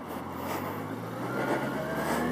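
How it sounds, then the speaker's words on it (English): An engine runs steadily and smoothly up close, a continuous even rumble that swells slightly toward the end, with no talking. "Engine sounds great."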